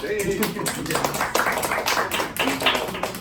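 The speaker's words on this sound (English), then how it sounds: "Give yourself a round of applause." Audience applause in a hall at a cello program event, a dense spread of hand claps filling the space steadily, with some voices and cheering mixed in.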